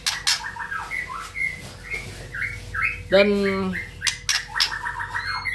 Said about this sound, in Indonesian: di depan layar kaca teman ini ada murai batu saya ya, pastol seri F4 temannya